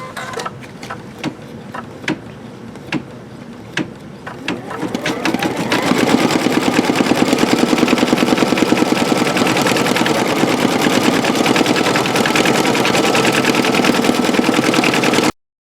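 An embroidery machine stitching with metallic thread: a few sparse mechanical clicks at first, then the needle starts a fast, steady, loud rattling rhythm that runs continuously to the end.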